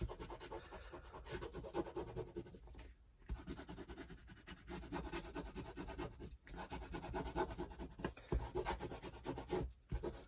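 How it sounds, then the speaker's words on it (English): A fingernail rubs firmly across paper on a watercolour craft piece, giving a close, continuous scratchy rasping with brief pauses between strokes. "just give those a quick rub with my nail just to make sure that we've got good contact"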